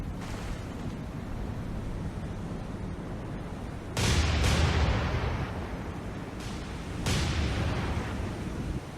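Naval cruiser guns firing in a War on the Sea warship battle, two heavy booming salvos with rumbling tails over a steady low engine-and-sea drone, loud and close.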